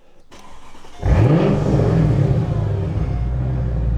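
A 2003 Mercedes-Benz SL55 AMG V8 engine cranks over and catches with a loud roar, then settles into a deep, rumbling idle close by.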